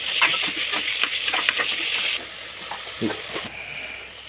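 Potatoes and tomato pieces frying in a pan with a crackling sizzle and a few stirring clinks, loud for about two seconds and then quieter, with soft scraping near the end.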